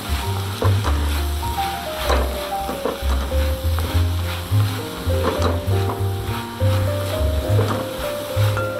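Red chili powder sizzling in a frying pan while vermicelli upma is cooked, a steady close crackle and hiss with stirring scrapes, heard alone without talk.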